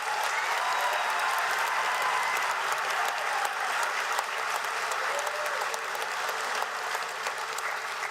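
Sustained applause fills a hall at a university commencement as the audience claps for honors graduates. The clapping is dense and steady, holding at an even level throughout without talk.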